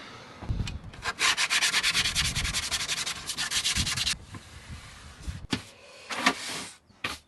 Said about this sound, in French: Allez, ponçage, c'est fait.